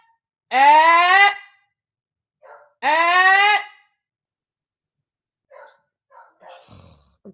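A dog gives two long, loud, tonal howling barks close by, about two seconds apart, followed by a few faint, brief yips and rustles.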